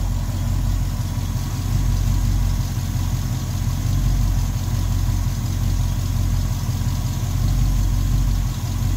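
A 1969 Ford Mustang Mach 1 fastback V8 idles low and steady after a cold start, a deep continuous rumble with a faint lope, close and alone for the whole stretch.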